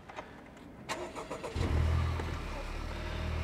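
A manual-transmission car at a Copart salvage auction yard cranks briefly, then catches and settles into a steady, close idle that holds to the end.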